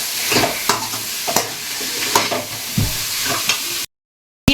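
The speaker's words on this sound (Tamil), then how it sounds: "நம்ம வெங்காயத்தோடவே நல்லா சுண்டைக்காய் வதங்கிடும்" Turkey berries and onions sauté and are stirred in a pan: a loud, close sizzle punctuated by regular spatula scrapes and knocks, then a sudden cut to silence near the end.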